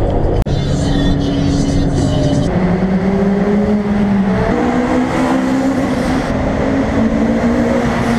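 A car engine drones and shifts pitch as it drives along with a group of Hondas heading to a meet, a continuous close cabin hum with rising and falling revs and no talking.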